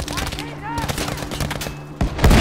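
Dense gunfire from a Battlefield V match, a string of close shots cracking over a steady game-sound bed with a few louder blasts near the end, while someone talks over it.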